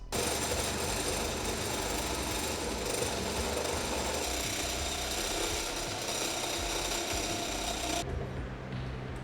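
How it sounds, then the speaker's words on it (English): A power drill runs continuously at a steady, loud whine for about eight seconds, enlarging a hole in a Mazda Miata engine bay part, then cuts off abruptly, leaving a quieter hum. "I'm going to drill it more so that we can actually use this."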